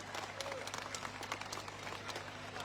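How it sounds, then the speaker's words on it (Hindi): A stadium crowd at a Congress candidate's election rally in Sadulpur applauds steadily to welcome party leaders, dense clapping rising and falling in waves with faint background murmur. "जोरदार तालियों के साथ अपने नेताओं का आप स्वागत करें"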